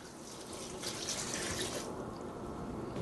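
Two cups of beef broth poured into a Crock Pot Express, a steady close liquid splash and gurgle running unbroken for a few seconds with no talking.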